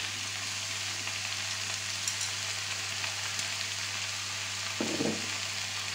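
Cod sizzles in olive oil in a pan, a dense, even frying hiss held close throughout, with a brief stir or scrape near the end.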